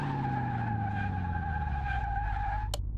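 Tires skid under hard braking on a 2013 Ford F-150 Raptor in Car Mechanic Simulator, a sustained squeal over a dropping engine note lasting nearly three seconds and ending in a short sharp click, with no one talking.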